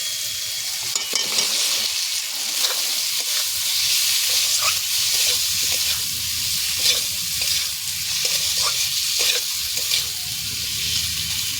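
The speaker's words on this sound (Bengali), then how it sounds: "এবার আলুটা দিয়ে দেবো" Potatoes fry and get stirred in a pan while cooking a Bengali egg curry with matar dal, giving a steady, close, loud sizzle with repeated scraping stirs throughout.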